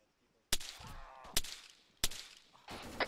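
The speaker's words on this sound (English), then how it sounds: "Gunfire coming in from the southwest." Incoming gunfire in Arma 3 during a castle defense, a few sharp, loud isolated cracks spaced about a second apart, each followed by a short rumbling echo against quiet background noise.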